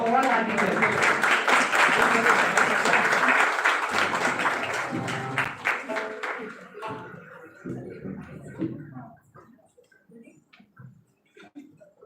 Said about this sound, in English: please give a huge round of applause for all our teachers